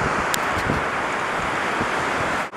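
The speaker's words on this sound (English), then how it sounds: "We're on the beach, and there's the ocean" Atlantic Ocean waves washing onto a beach, a continuous loud roar of surf mixed with wind buffeting the microphone, close and steady with no talk.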